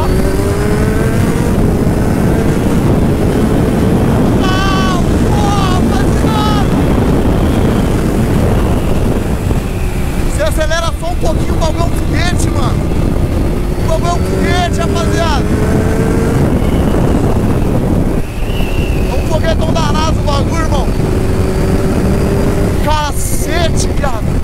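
A Kawasaki Ninja H2 sport motorcycle engine revs and accelerates repeatedly, its pitch climbing and falling over loud wind rush, with voices talking now and then.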